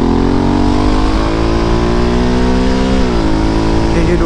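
A Honda Africa Twin DCT 1000cc motorcycle accelerates hard under a loud, close engine roar whose pitch climbs steadily, then dips briefly at an automatic gear change before pulling on.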